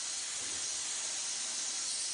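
A steady, continuous hiss of air spraying from an airbrush, close and even throughout with no breaks.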